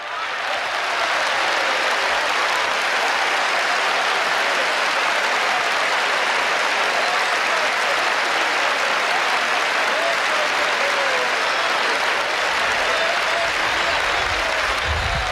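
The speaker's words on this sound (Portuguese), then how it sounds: "Give the Lord a hand of praise." A church congregation applauds in praise, producing loud, dense, sustained clapping that fills the whole stretch without a break.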